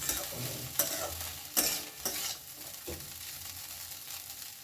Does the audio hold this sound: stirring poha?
yes